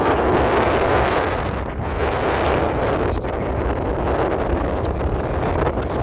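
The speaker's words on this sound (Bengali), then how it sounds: "পানি ছিটে আসতেছে, বোঝা যায়।" River water sprays onto a passenger launch travelling from Dhaka to Bhola near Bhola before dawn in heavy rain, heard as a constant loud rushing wash blended with wind buffeting the microphone, with no talk.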